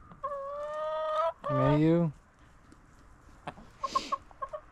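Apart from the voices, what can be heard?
chickens clucking around the coop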